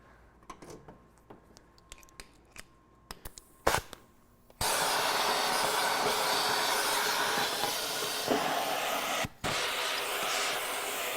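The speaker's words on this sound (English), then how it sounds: "Uh-oh, vacuum's plugged." After a few scattered clicks and knocks, a loud shop vacuum roars on and runs steadily, cutting out briefly as it plugs before resuming its harsh whoosh.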